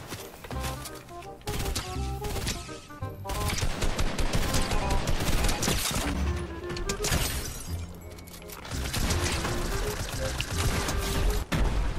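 Gunfire in a Fortnite match comes in dense, rapid bursts of automatic shots and sharp cracks, loud and close, layered with shattering debris and game sounds, continuing almost nonstop.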